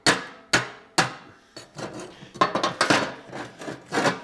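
A hammer chips slag off a fresh CO2-shielded weld in a series of sharp, close metallic knocks, a few spaced strikes first and then quicker, scraping taps, with no talking.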